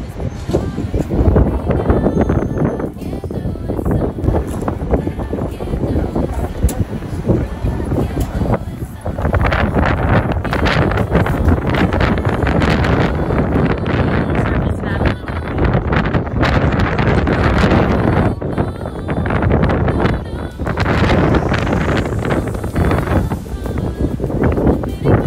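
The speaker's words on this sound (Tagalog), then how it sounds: "It's windy." Strong gusty wind buffeting the microphone outdoors, a loud continuous rumbling roar with repeated heavy blasts that nearly drown out faint voices.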